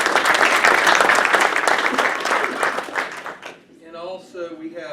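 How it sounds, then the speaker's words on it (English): Loud, dense applause from an audience at a Gate City Rotary club meeting fills the room for several seconds, then fades as a single voice begins speaking. "So give Gaines a warm clap."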